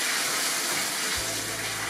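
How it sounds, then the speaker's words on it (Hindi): Water poured into a pan of leftover onions while cooking chana daal with capsicum, a loud, steady gushing rush close by, with a low hum joining partway through and no talking. "इसमें हमने लिटल बिट वाटर ऐड किया है।"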